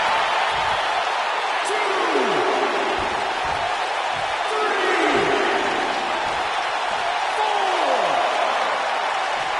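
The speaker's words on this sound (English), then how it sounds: "This crowd has literally been on the edge of their seats ever since this title match kicked off." Crowd noise from a wrestling title match in a PS4 video game: a constant dense roar with cheers and several falling whistles, steady and loud for the whole stretch.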